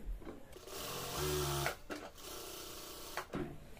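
A sewing machine runs in short bursts while stitching a salwar, its motor a whirring buzz that starts and stops with brief pauses between stretches of stitching.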